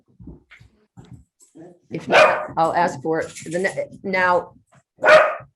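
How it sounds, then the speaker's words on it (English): A dog barks loudly in the background of an online zoning board of adjustment meeting. Two harsh bursts cut across a person who keeps speaking throughout. "that dog barking is quite loud"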